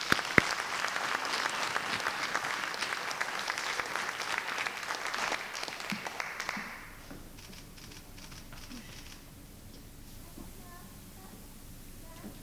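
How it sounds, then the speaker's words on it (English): Applause from the audience at a high school athletic hall of fame induction ceremony, a dense burst of clapping for about seven seconds that then drops away to quiet room noise. "So let's give a round of applause for Erica Martin."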